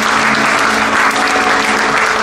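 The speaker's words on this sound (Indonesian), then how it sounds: "Boleh kita beri tepuk tangan yang terbaik." A church congregation applauding during a Sunday worship service, a dense and steady roar of many hands clapping together, loud and close, with no pauses or speech.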